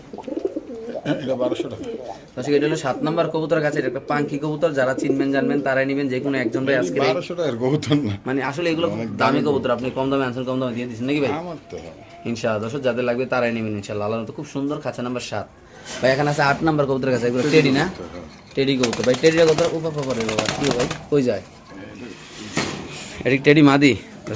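Caged pigeons at a pigeon seller's stall cooing in soft rolling phrases, with louder flutters and clatters toward the end, heard under someone talking almost continuously.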